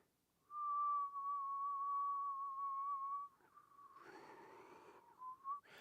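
A person whistles a single sustained steady note for a few seconds, close and clear, followed by a breathy, wavering attempt with some air noise and short whistled bursts.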